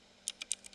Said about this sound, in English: we're gonna have to go and type the whole thing out